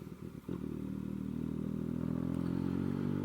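A 2020 Yamaha Tracer 900 engine pulls steadily while riding, a close, continuous low drone after a brief clatter at the start, with no talking.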